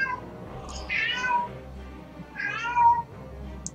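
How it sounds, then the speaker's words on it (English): A house cat meows twice, a pair of clear, close, drawn-out calls about a second and a half apart over a faint low hum, with a tiny sharp click at the very end. "Oh, that is our cat."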